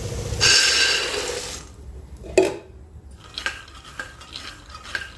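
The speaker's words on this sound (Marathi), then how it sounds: "शेंगदाणे भाजते कढईमध्ये मंद आचेवरती मस्त खरपूस भाजून घेते" Peanuts roast in a kadhai over a low flame, a brief rustling scrape at first, then scattered spoon knocks and soft clinks against the pan with quiet gaps between.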